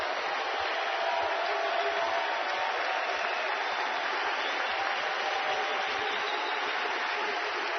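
A baseball crowd at an NCAA Super Regional game in Athens rises and cheers for the pitcher, a steady, dense roar of applause and voices that holds strong throughout.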